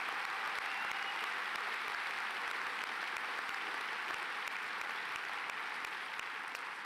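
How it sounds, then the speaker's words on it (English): A large graduation audience gives dense, sustained applause for the fine and performing arts students, steady clapping from start to finish. "Please give all of our students in the fine arts and the performing arts a round of applause."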